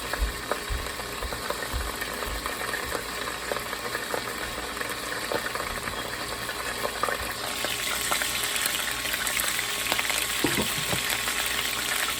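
Hamburger steak fries in a pan with a steady dense sizzle and scattered sharp pops of spitting oil, getting louder and brighter toward the end, close up with no talk.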